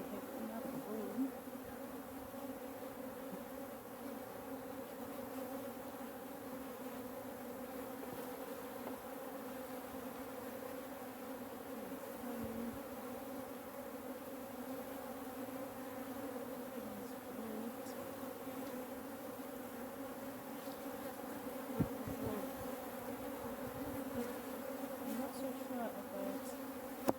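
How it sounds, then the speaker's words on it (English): Disturbed African honey bees drone steadily during a post-winter hive inspection, a dense continuous buzz close by that holds at an even level throughout. "these bees are really not happy to be disturbed"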